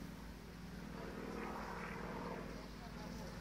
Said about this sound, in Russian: Где-то вертолет летит.